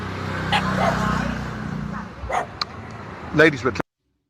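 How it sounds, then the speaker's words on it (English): Dogs bark and yip indoors, a few sharp barks in bursts toward the end over a low rumble, with talk and background noise before them. "Dogs are barking."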